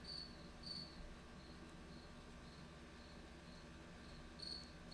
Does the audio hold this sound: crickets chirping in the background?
yes